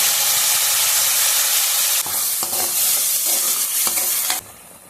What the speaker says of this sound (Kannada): ಇದಕ್ಕೆ ನಾನು ಗ್ರೈಂಡ್ ಮಾಡಿ ಇಟ್ಕೊಂಡಿರೋಂಥ ಮಸಾಲೆ ಎಲ್ಲ ಹಾಕ್ತಾ ಇದ್ದೀನಿ